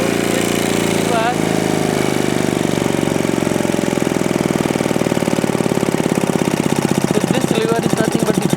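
A CLM diesel engine runs steadily with a loud, continuous chugging rumble, its beat slowing and thinning toward the end as the fuel cut-off lever shuts it down.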